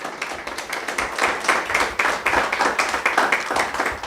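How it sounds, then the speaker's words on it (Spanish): A church congregation claps and applauds together in a steady, dense burst of hand claps that fills the room, loud and sustained with no pauses. "Dale el aplauso al Señor."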